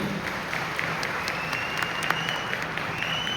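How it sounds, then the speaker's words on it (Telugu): An audience applauds at a motivational speech event, a steady, dense wash of clapping from a sizeable crowd, moderately distant, with no speech over it. "అందుకోసం బిగ్ క్లాప్ అన్నది."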